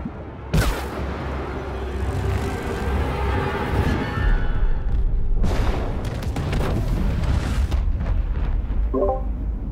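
Two heavy booming blasts in the video game It Takes Two, about five seconds apart, with a dense roaring rumble between them and a brief electronic beeping at the end.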